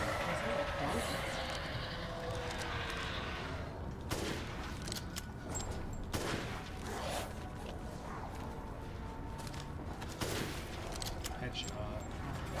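Gunfire in a video game shooter, a dense run of rapid shots and bursts carrying on steadily throughout, with excited voices talking over the shooting.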